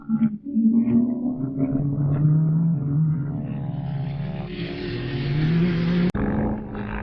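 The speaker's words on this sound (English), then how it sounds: "This car is so much fun to run with this turbo kit." A Pro R dune car with a 62 mm turbo kit running 12 pounds of boost accelerates. Its engine note climbs steadily in pitch and grows brighter, close and loud, with a brief cut near the end.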